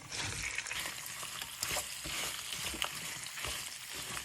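Pork ribs frying in oil with scallion, ginger, garlic, star anise, cinnamon and other spices, a dense steady sizzle with crackling spatters and occasional stirring, close up and without speech.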